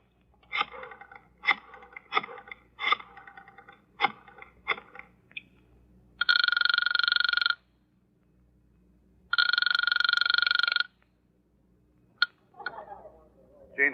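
A telephone rings in two long, loud electric bell bursts after a series of sharp clicks and taps as a number is dialed, with a brief rustle at the end and no talking.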